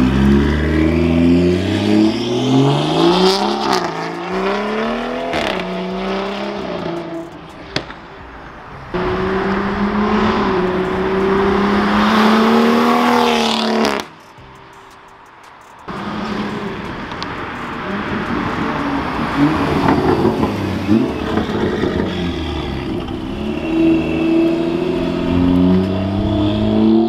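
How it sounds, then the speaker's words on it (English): A BMW F30 340i with stock exhaust and a high-flow downpipe revs hard and loud, engine pitch sweeping up and down through repeated pulls, with a brief lull in the middle before it roars again. "Stock exhaust with a fucking high flow downpipe."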